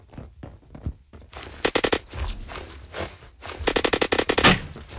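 Rapid bursts of automatic gunfire in the Roblox-style shooter Phantom Forces, two loud rattling volleys with scattered single shots and clatter between them, no talking.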